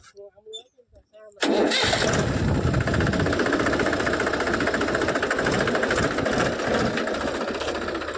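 A tractor engine starts abruptly after a brief moment of voices in a field where chickpeas are being sown with fertiliser mixed in, then chugs loudly and steadily at close range.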